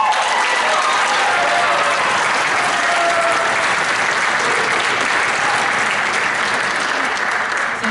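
Sustained, dense applause from a high school orchestra spring concert audience, steady and loud throughout with a broad wash of clapping and faint crowd murmur underneath.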